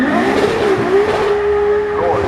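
A Ferrari supercar runs at the Goodwood Festival of Speed 2019, its engine note held steady and loud close by, then rising and falling with brief tire squeal over continuous crowd and commentary noise.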